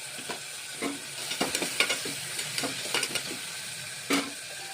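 Tomatoes sizzle and fry steadily in a pan, with a few scraping stirs and light clinks of a spoon against metal.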